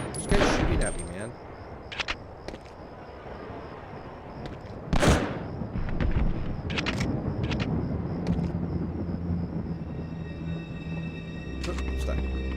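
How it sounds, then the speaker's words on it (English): Enemy gunfire rattles in the World War II shooter game Medal of Honor: Underground, with sharp bursts and scattered shots over continuous game noise and a steady high-pitched whine. "This guy's shooting at me, man."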